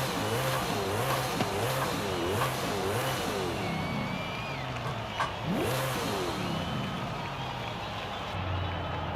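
A car engine in Forza Horizon 5 revs up and down repeatedly through many quick gear changes, a steady loud game drone with rising and falling pitch sweeps and no one talking.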